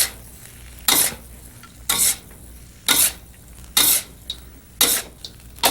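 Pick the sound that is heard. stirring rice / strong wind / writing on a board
stirring rice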